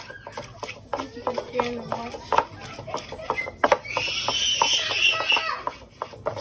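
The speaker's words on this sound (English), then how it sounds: "that's when you start to like mash up the onion" Onion being mashed for Ghanaian ampesi, repeated uneven pounding and tapping thuds at close range, mixed with a sizzle-like hiss partway through and speech in the background.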